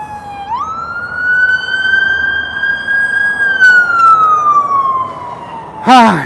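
A loud emergency siren wails steadily, rising then slowly falling in pitch, with a sharp burst of noise at the very end.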